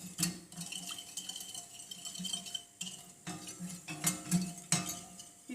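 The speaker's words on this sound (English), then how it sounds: "So now I'm just going to whisk this for a little bit." A whisk working through a hot oatmeal drink with cinnamon in a pot, giving rhythmic light clinks and swishes against the metal, close and fairly quiet with no one speaking.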